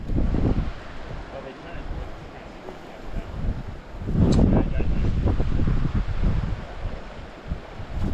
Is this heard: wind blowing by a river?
yes